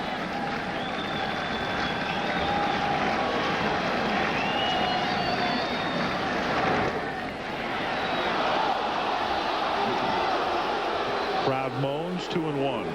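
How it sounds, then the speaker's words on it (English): Baseball stadium crowd at a 1995 National League Championship Series game between the Braves and Reds, extra innings, letting out a broad, sustained collective groan that swells and fades, with a loud announcer voice talking over it near the end. "Crowd moans."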